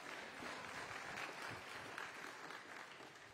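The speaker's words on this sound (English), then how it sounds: "felt like that was like a bad comedian with a pity clap at the end" A small group gives brief, sparse applause, a faint thin patter of a few hands clapping for a few seconds.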